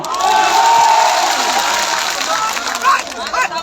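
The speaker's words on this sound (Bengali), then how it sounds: "তারেক রহমান নামে একটা হাততালি হবে না?" A crowd at a BNP political rally in Panchagarh applauds and cheers, a dense steady wash of clapping and shouting carried over an outdoor PA, with a voice rising through it.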